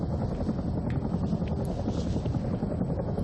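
Helicopter in the video game Arma 3, a steady loud rotor and engine drone with broad rumbling noise that holds throughout, alone with no talk over it.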